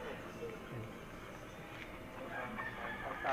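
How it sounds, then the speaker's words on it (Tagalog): Chickens and roosters kept for cockfighting in a backyard cluck and crow at a moderate distance, with a speaking voice mixed in over the birds. "busy sa pag alaga ng kanilang mga hayupan, mga manok"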